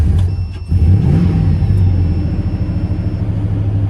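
An auction car with repair needs cranks briefly, catches and settles into a steady, loud rumbling idle close by, with no one talking over it.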